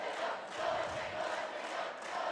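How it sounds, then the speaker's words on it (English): Student section at a girls' high school basketball game, Lady Wolves against Skyview Storm, a loud sustained crowd chant rising and falling in waves. "And listen to that crowd."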